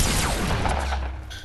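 Gunfire bursts in the Fortnite video game, with a loud, dense volley of shots up front that trails off into a fading, rattling tail.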